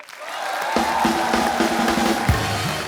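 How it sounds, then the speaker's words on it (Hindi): A comedy show audience breaks into a short, steady burst of clapping and crowd noise, with a bright musical sting ringing through it. "जोरदार तालियां पहले"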